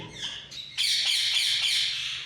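Ringneck parrot chicks squawk up close in loud, harsh, continuous cries that rise sharply after a short gap and then hold steady.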